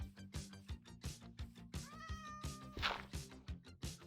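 An in-game cat in a modded Minecraft survival world meows over steady background music, the mew rising and bending briefly near the middle, with no talking.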